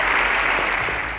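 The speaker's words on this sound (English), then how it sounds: "A round of applause for Stephen." Brief burst of studio audience clapping for a contestant on a televised school science quiz semi-final in Nigeria, dense and steady, tapering off slightly within about a second.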